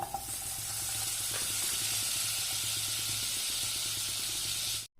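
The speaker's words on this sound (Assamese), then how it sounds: "প্ৰথমতে মই কেৰাহীখনত অলপমান বাটাৰ দি লৈছোঁ" Steady sizzling hiss of butter melting in a hot wok, continuous and fairly loud throughout, cutting off abruptly at the end.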